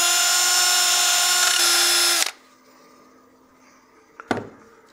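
A lathe spins a turned wooden succulent planter under sanding, a loud steady whine for about two seconds before spinning down, followed by quiet hum and a brief knock.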